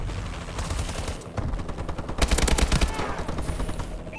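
Rapid automatic gunfire from a video game Hardpoint match, bursts of shots crackling in quick rhythm, growing louder and denser toward the middle before continuing in scattered volleys.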